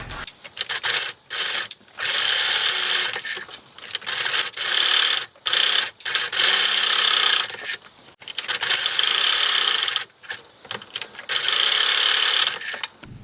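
A sewing machine runs over scale-patterned costume fabric being sewn onto the back of a sweatshirt for a dragon costume, in repeated rough bursts separated by brief pauses, close and fairly loud.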